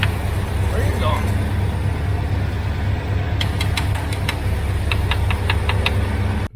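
An abandoned Ford that sat parked for 11 years runs with a steady, loud mechanical rumble, joined near the end by a quick series of light metallic ticks.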